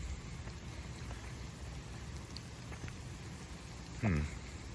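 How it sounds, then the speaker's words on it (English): Steady rain falls during Hurricane Milton, a continuous hiss that stays even throughout, with a short louder burst near the end. "It's just started raining, and not really much, but it's already flooding."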